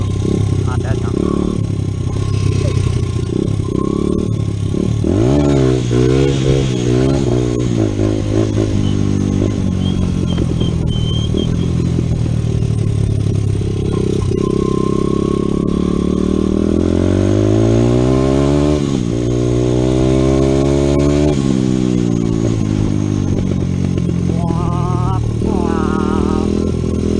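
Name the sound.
motocross dirt bike riding on a trail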